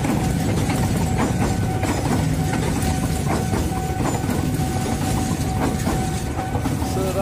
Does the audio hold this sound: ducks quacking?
no